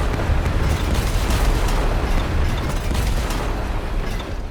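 Terrain landscaping in the Transport Fever 2 video game produces a loud, continuous rumbling, crunching roar like grinding earth, sustained and dense for several seconds without a break.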